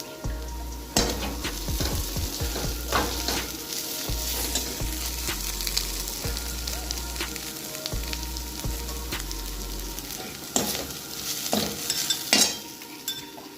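Poha sizzles and fries in a pan while a utensil stirs and scrapes it in repeated strokes, close and steady, with a low hum underneath and no talking.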